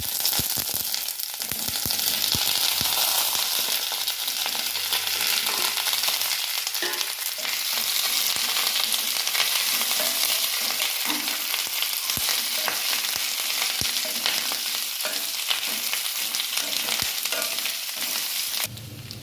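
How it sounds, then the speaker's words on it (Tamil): Curry leaves crackle and sizzle continuously in hot oil up close, with scattered sharp pops and occasional stirring scrapes, steady and loud throughout. "நறுக்கி வச்சுருந்ததோட கருவேப்பிலையை கொஞ்சம் சேர்த்தி அதில் போட்டு இப்போ தாளிக்கலாம்"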